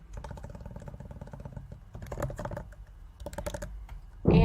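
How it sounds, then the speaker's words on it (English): Someone types a password on a computer keyboard. The clatter of key presses comes in short uneven bursts with brief pauses, and a louder clack lands at the end. "type in my password"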